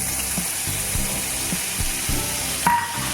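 Butter melts in a hot pan with a continuous close sizzle, broken by rhythmic scraping knocks of a utensil and a sharper clatter near the end, with no voices.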